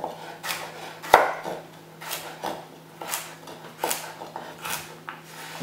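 A knife chops carrots on a cutting board in steady, evenly spaced strokes, about one per second, with close, crisp thuds and no voices.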